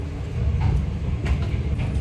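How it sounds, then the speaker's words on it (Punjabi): Low rumbling of a train rolling slowly to a stop at a station in Kenya, steady mechanical drone with faint clatter, no voices. "ਤੁਹਾਨੂੰ ਸਟੇਸ਼ਨ ਤੇ ਦਿਖਾਉਣੇ ਟ੍ਰੇਨ ਕਿੱਦਾਂ ਰੁਕਦੀ ਹੈ"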